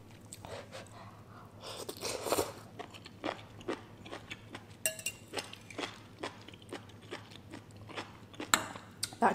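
Crunchy chewing and biting on spicy fire noodles, crab legs and prawns, close and crisp, with irregular sharp crunches and occasional clinks of dishes over a low steady hum.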